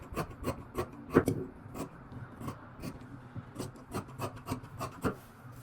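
Scissors cut lengthwise through fabric for a maternity and nursing garment, giving a series of short close rasping snips in an irregular rhythm with no talk.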